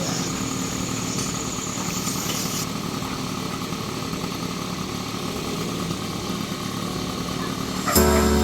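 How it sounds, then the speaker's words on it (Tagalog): A motorcycle engine warms up at idle, a steady close mechanical drone running continuously before a sudden louder burst near the end. "Kaya pinainit natin ang ating motor"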